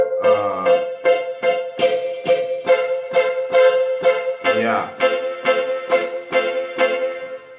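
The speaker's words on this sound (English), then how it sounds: "So you can use the brass section as a dual." Brass-section voice on a keyboard playing a vamp: punchy, evenly spaced stabbed chords repeating in a steady rhythm, loud and close, with no talking.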